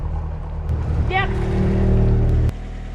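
The inboard engine of a 12 m sailboat, with a leaking propeller shaft, runs loud and close with a steady low drone and a brief rising whine, then cuts off abruptly near the end.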